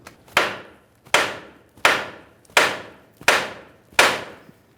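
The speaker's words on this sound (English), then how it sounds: "even just a hammer and lightly tap on the steering knuckle here, causing vibration, driving this down and out" Hammer lightly tapping a steel steering knuckle on a 1994-2001 Dodge Ram 1500 to free the outer tie rod end: six sharp, evenly spaced metallic knocks about three-quarters of a second apart, close and clear with no talk.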